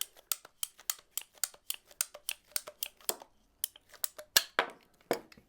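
Ratcheting PVC pipe cutter biting through 2-inch PVC pipe, a steady run of sharp close clicks and crunches, about three per second, ending in a few louder snapping cracks.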